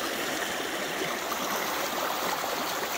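A river stream flowing over loose bedrock during gold prospecting after a storm, a steady close rushing and gurgling of water, continuous and fairly loud with no voices.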